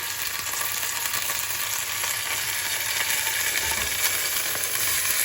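Pork seals in a hot pan for ramen, giving a steady, loud sizzle and crackle of frying that holds evenly throughout with no talking.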